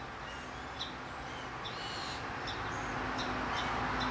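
Several birds in a tree give repeated short, chirpy calls, scattered and moderately near over a steady outdoor background.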